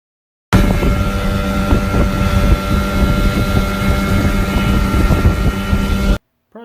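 Twin 15 HP Johnson/Evinrude outboard motors on a boat during a test launch, a loud steady engine drone with wind buffeting the microphone, running continuously for about six seconds before cutting off abruptly.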